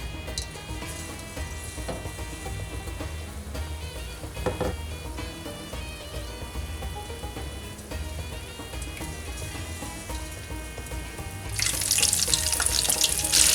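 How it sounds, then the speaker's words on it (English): Chicken-stuffed chillies begin frying in hot oil, a bright hissing sizzle swelling up near the end over steady background music. "I'm going to start dipping them, and I'm going to start frying them as well."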